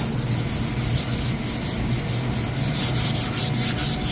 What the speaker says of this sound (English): A little sanding